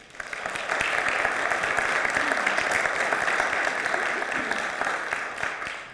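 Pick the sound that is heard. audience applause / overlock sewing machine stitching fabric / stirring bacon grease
audience applause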